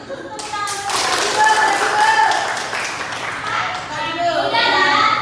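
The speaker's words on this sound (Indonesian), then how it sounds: "Oke, tepuk tangan." Classroom of children clapping their hands together, a loud burst of fast, uneven claps mixed with excited young voices and shouting, easing briefly before more clapping and chatter.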